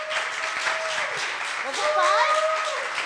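Audience applause for a speaker named Pete at an education and internet talk, steady clapping throughout with a voice talking over it briefly.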